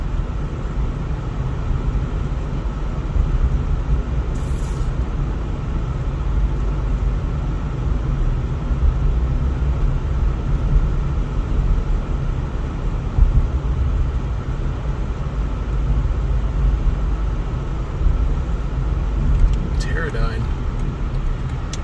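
A car driving through the residential streets of Andover, Kansas gives a steady road rumble and engine hum throughout, with a voice talking over it.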